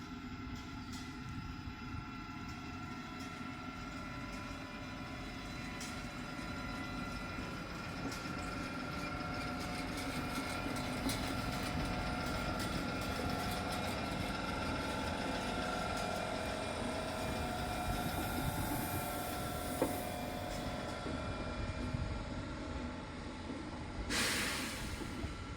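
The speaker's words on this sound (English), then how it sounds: "So let's just video this beautiful train as it leaves our" A French passenger train pulls out of a station, a steady low rumble and hiss of rolling stock building slightly and holding throughout, with a brief sharper burst near the end; no talk over it.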